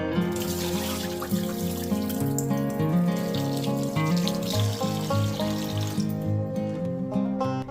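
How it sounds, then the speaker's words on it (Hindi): Basmati rice washed under steady running water from a kitchen tap, a continuous, fairly loud splashing and gurgling flow that carries on without pause and without talk. "ये बासमती चावल है, तो इसको 1 से 2 बार अच्छी तरीके से वॉश करके"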